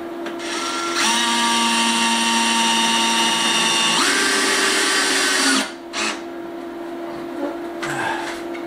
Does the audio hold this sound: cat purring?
no